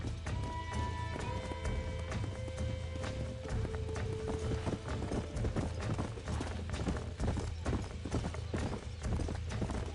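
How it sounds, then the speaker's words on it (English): Horses trotting with rapid, steady clip-clop hoofbeats in Red Dead Redemption 2, close and continuous, with a faint whinny and brief tones in the background. "These are fine horses."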